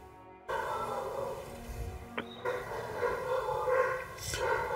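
Dogs bark and whimper through a room's background ambience, yips and barks coming in uneven bursts at moderate distance over a steady hum.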